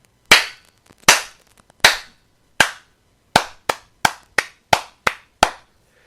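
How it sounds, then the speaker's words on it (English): Single, sharp hand claps sounding alone in a quiet room, about ten of them, widely spaced at first and then quickening into a faster, evenly paced run. "Round of applause, everybody."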